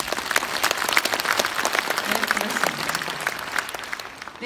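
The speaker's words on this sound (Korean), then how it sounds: "여러분 박수 부탁드리겠습니다." An audience claps at a Jeju event welcoming a Japanese consul general, dense, loud applause that holds steady and then thins out and fades near the end.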